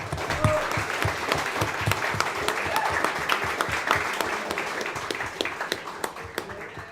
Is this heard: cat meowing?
no